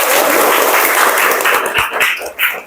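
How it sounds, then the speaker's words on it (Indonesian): A classroom of students claps together in a dense, close burst that thins into a few scattered claps before fading out. "silakan tepuk tangan untuk kalian semua"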